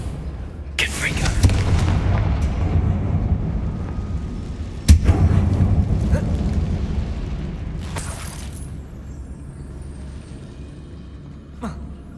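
Confringo fire spell in a wizarding video game goes off as a booming blast with a rumbling roar, followed by a second sharp burst and a long fading low tail.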